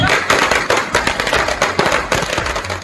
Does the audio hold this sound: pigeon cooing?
no